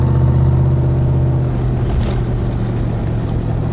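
Steady, loud engine rumble of a 1965 Backdraft Cobra replica cruising on the road, a constant close drone with a brief whooshing swell near the middle.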